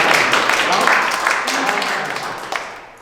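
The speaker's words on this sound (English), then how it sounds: "Let's give Evan a round of applause" Audience applause for Evan Shulman at a Hanukkah menorah lighting in Paterson, a steady broad wash of clapping that slowly fades, with voices mixed in.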